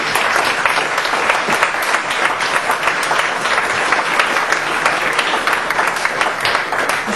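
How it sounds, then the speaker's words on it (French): Loud, sustained audience applause at a tribute evening, dense clapping from a crowd continuing evenly throughout with no talk over it. "On devrait leur donner une bonne applaudissement."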